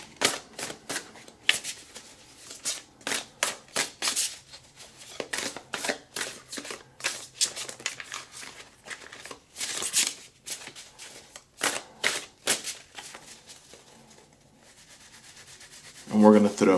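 A deck of tarot cards is shuffled by hand, with rapid riffling bursts repeating in an irregular rhythm up close, followed by a brief voice at the very end.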